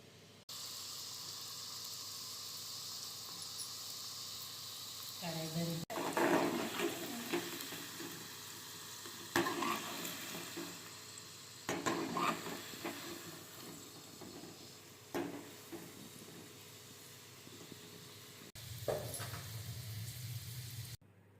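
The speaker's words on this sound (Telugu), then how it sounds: "గవ్వలను ఇట్లా మనం నూనెలో మంచిగా ఫ్రై చేసుకోవాలి ఫ్రెండ్స్, గోల్డ్ కలర్ వచ్చే వరకు" Gavvalu dough shells frying in hot oil until golden, a steady soft hiss broken by a few louder bubbling surges, with no one talking.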